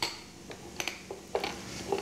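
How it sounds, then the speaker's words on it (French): Sparse hard knocks and scrapes of a saucepan bottom pressing on a counter to crush whole peppercorns, a few irregular crunching taps spaced apart, fairly quiet. "Un peu le poivre entier, qu'on va tout simplement écraser avec le fond d'une casserole ici."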